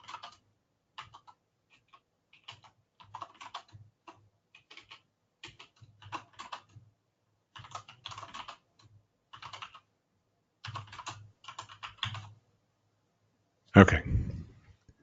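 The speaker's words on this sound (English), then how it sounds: "I'm just going to type in some symbols." Symbols are tapped out on a computer keyboard in short bursts of close, crisp key clicks separated by pauses, ending with a louder thump, with no talk.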